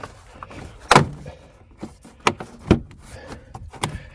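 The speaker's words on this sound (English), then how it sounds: "let's start from the inside of the door frame, and let's start pulling this out." Plastic interior trim being pried and pulled from a Mercedes GLE350 door frame, a few sharp snapping pops and clicks spaced irregularly, close and loud against a quiet background.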